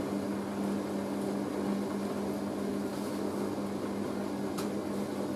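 Hoover A3060 Electronic 1100 washing machine tumbling a load of towels, a steady low mechanical hum with a constant drone and soft churning, continuous and fairly close, with no voices.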